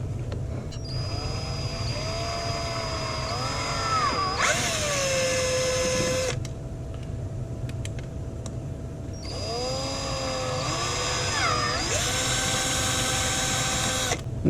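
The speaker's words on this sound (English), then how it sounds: "So we've got 2 holes that we're going to need to drill." A power drill bores two holes in a Kydex double AR magazine holster, each a whining burst of several seconds that rises and falls in pitch, with a quiet pause between them.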